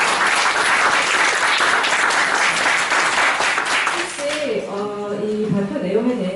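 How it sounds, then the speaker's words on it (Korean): Large conference audience applauding after a keynote lecture, a loud dense wash of clapping for about four seconds that then fades out as a voice begins speaking over the tail. "박수 부탁드립니다"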